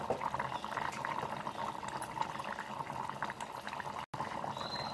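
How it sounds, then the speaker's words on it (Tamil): A pot of mutton curry bubbles and simmers steadily nearby, with soft continuous gurgling and popping; a brief dropout near the end. "குழம்பு நல்லா கொதிக்குது"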